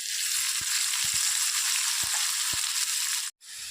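Onion pieces fry in hot oil with a bright, continuous sizzle, dotted by soft pops and clicks from the pan. The sound cuts off abruptly near the end and leaves a quiet, muffled tail. No speech.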